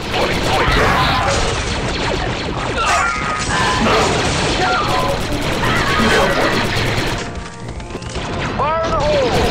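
Loud blaster gunfire and clanging impacts in Star Wars Republic Commando during a fight with super battle droids, dense and continuous, with sharp electronic zaps toward the end.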